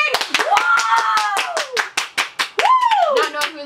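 A few people clap hands close by in quick sharp bursts, with voices talking and singing over the claps.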